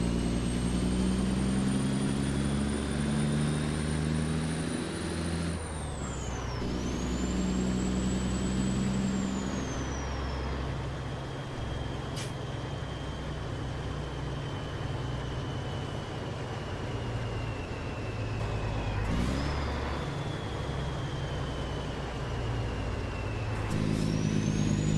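A heavy truck engine in American Truck Simulator drones steadily at a constant low pitch, on a snowy drive in Canada, with several brief gear-shift dips and a thin whine riding above the rumble.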